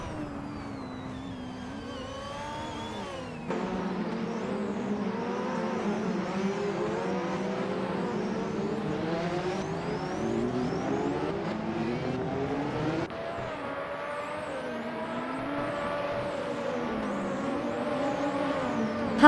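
Race car engines in a racing video game drone and rev continuously, with pitch sweeps as cars accelerate and shift, a layered mix of several engines at steady moderate loudness throughout, no talk.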